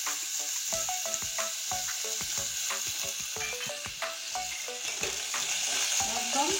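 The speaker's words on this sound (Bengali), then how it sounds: "রসুনটা প্রথমে সুন্দর করে ভেজে নেব" Whole garlic cloves frying in hot oil as a tempering, a dense crackling sizzle close at hand, with quick popping spatters and stirring scrapes running continuously throughout and no one speaking.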